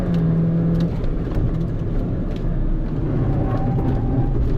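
A 2013 Mini Cooper GP driven hard on a hill track, its engine droning loudly and steadily with road and wind noise throughout.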